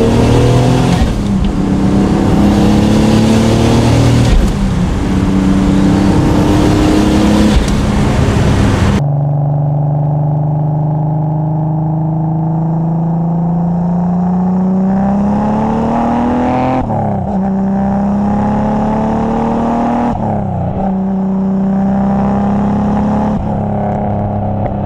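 A turbocharged BMW E46 330i accelerates hard on the Autobahn, its engine note rising loud and close through several gear pulls with short dips at each shift.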